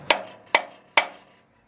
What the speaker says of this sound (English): you just take the center punch right on the aluminum right next to it.